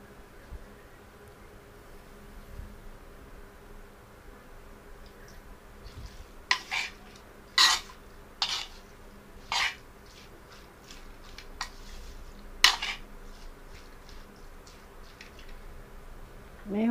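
Squid curry ingredients are mixed in a pot, giving a handful of sharp metallic clinks and scrapes spaced irregularly over a quiet kitchen background.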